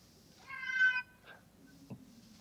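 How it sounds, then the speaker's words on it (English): A single cat meow from an educational app, bright and slightly synthetic, followed by a shorter softer mew, over a low steady background hum. "Now it sounds to me like there's a cat in there."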